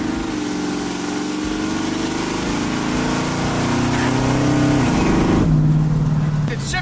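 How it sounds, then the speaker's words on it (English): A car's supercharger blower whines as the engine revs, a loud, sustained tonal drone that climbs in pitch and then drops, heard close and continuous with rain-like background noise. "Oh, you hear the blower?"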